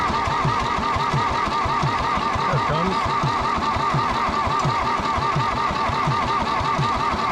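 The diesel engine of a John Deere 1010 track loader cranks without catching, a steady run of rhythmic, chugging starter strokes at close range with no talk over it.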